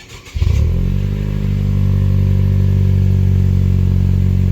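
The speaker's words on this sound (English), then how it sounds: "So we're about to start it up" A 2017 Honda Civic Sport Hatch with a newly fitted Invidia Gemini cat-back exhaust cranks and fires up, then settles into a loud, steady, deep rumbling idle.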